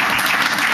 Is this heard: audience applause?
yes